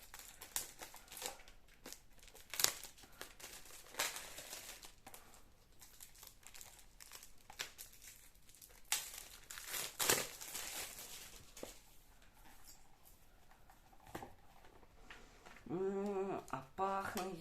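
A DC Black Label Batman comic book being unwrapped and opened, with close crinkling and rustling of plastic and paper in irregular bursts, and a brief voice near the end.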